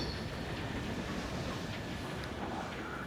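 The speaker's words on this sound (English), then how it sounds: "There's a train coming along here." A high-tech train rolls past in Ghost Recon Breakpoint, a steady, faint rumbling drone with soft metallic rattles and occasional faint squeals, continuous throughout with no talk.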